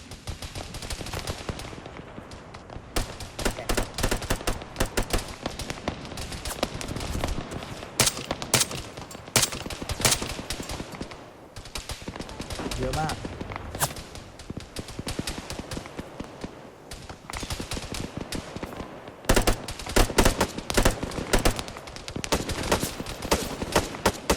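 Rapid bursts of automatic gunfire and single shots crackle throughout an Arma 3 firefight, loud and dense with brief pauses, some volleys near and others more distant.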